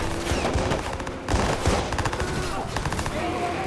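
Dense, continuous gunfire in the Watch Dogs video game, with overlapping shots and crackling bursts in a busy, loud street scene and no break throughout.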